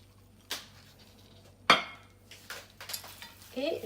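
Chicken pieces being mixed with olive oil and chunks of butter for oven-baked rice: a few sharp utensil clinks and scraping knocks against the dish, fairly quiet and spaced irregularly.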